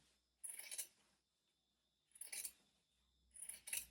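Scissors snip through cotton fabric cut from a shirt, three separate crisp slicing strokes up close with quiet gaps between them.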